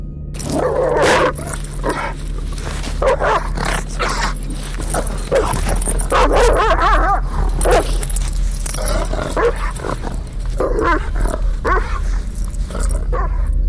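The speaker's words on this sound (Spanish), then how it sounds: "Ladraba, mordía los barrotes de la jaula, la embestía con todas sus fuerzas." A large, caged dog barks furiously in rapid, loud bursts, with yelps and whimpers mixed in, over a low rumbling background.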